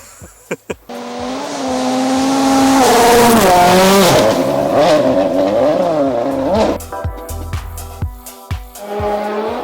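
Rally cars at Rally Finland race past on a forest road, near and loud, with engines rising and falling as they rev through a bend and tires scrabbling on the surface, then sharp clicks and a second car approaching.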